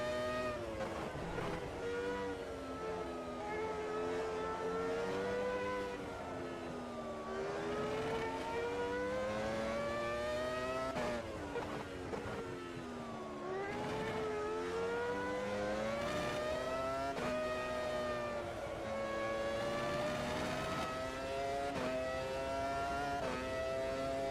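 F1 race cars scream around the classic Spa circuit on a wet track in a racing video game, high engine whines rising and falling through gear changes and sustained at full revs with no break.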